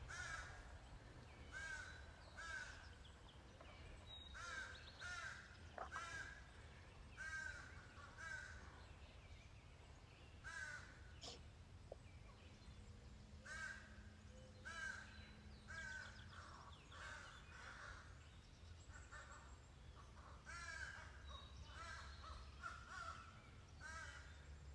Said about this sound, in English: this is a raucous room with crows talking to each other.